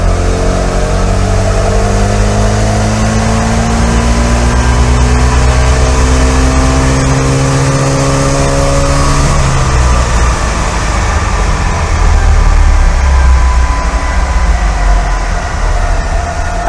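A Trabant's engine runs flat out on a dyno, loud and close, with strong rising harmonics climbing steadily before the pitch drops and settles into a rough, even drone.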